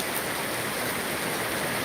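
Steady rain pouring at an outdoor church festival in Kerala, a dense continuous hiss of drops striking surfaces, even and unbroken throughout.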